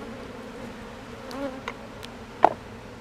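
Honeybees at an open hive give a faint, low buzz under soft background noise, with a few brief sharper buzzes and clicks as single bees fly close.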